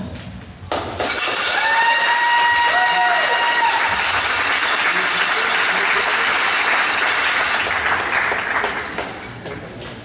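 Sustained applause from an audience at a swimming senior day, loud and dense, rising abruptly near the start and fading slightly toward the end, with whistles and cheers faintly woven in.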